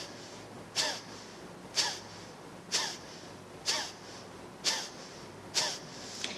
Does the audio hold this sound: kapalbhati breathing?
yes